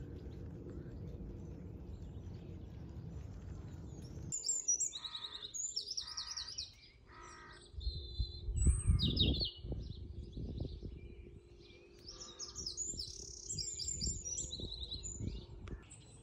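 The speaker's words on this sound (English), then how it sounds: "So it's a gorgeous morning, the birds are going for it." Songbirds chirp and trill in repeated bursts around a farm on a calm morning, clear and fairly close, with low rumbling background noise and a steady hum underneath.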